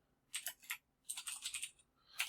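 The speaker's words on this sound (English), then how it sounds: "But I am going to type these first couple of paragraphs." Quiet, close typing on a computer keyboard comes in short bursts of rapid key clicks, with pauses between the runs.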